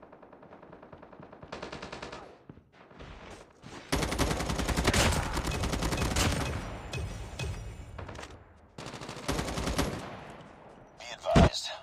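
M4 rifle in Call of Duty Mobile firing in loud, rapid automatic bursts, with a long sustained burst in the middle, shorter bursts around it and a sharp bang near the end.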